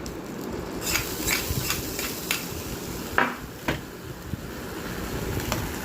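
A curry leaf and chili tempering is added to buttermilk kulambu and stirred in, giving a run of light metallic clinks and scrapes of a spoon against the pot over a soft, steady sizzle.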